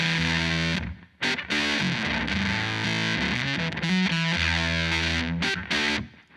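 Electric guitar part played clean without a fuzz pedal, on a pedalboard rig, with a light distorted edge from overdrive; continuous strummed chords and riffs with brief gaps, loud and close, no talking.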